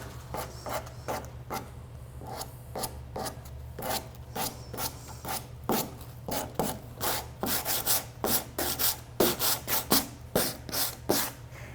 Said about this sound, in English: This is the part where you can really just distress and sand to your heart's content.